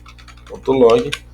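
Quick clicks of a computer keyboard as code is typed, faint at first, then a louder burst of keystrokes and a clatter near the end.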